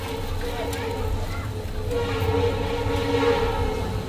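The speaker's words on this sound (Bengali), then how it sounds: "দেখো ট্রেন আইতাছে" A train approaching rumbles steadily nearby, low and continuous, growing slightly louder toward the end, with voices murmuring underneath.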